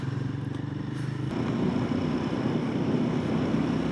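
A Royal Enfield Guerrilla 450 motorcycle is ridden on the road, its engine droning steadily and then swelling louder under acceleration, with wind rush throughout.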